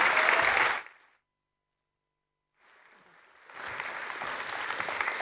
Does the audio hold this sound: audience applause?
yes